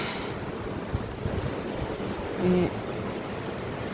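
A river flowing through forest in the Rhodope Mountains, a steady broadband rush of water mixed with wind noise, with a brief voice heard near the start.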